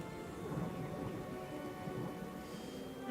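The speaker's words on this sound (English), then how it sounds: "and rain immediately starts falling." Rain falling steadily with low rumbles of thunder, a soft even wash of drops on surfaces, fairly quiet and with no voices.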